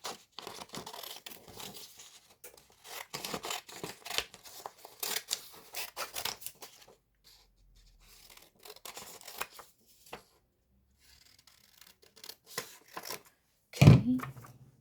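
Scissors cut out a sublimation print, giving close, crisp, repeated snips and paper rustling in irregular bursts with quiet pauses, ending in one louder crumpling handling sound.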